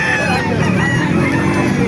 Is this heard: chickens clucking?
yes